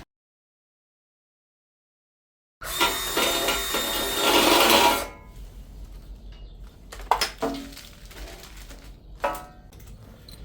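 A loud, grinding rasp of a 1/2 inch drill bit deburring the back of a hole in metal for a couple of seconds, followed by quieter scraping and a few sharp clinks.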